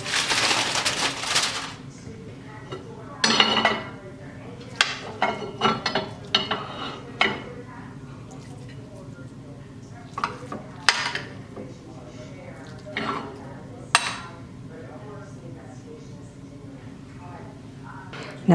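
Ground beef, rice and melted cheddar cheese dish served onto a plate in a home kitchen, with scattered clinks and scrapes of utensil against dish, some sharp and close, over a quiet background.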